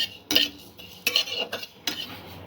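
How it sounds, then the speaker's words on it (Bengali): Cumin and fennel seeds are dry roasted in a pan, heard as three close, bright scraping stirs of a metal spoon against the pan with short pauses between them. "এখানে জিরে আর মৌরি একটু ড্রাই রোস্ট করে নিচ্ছি।"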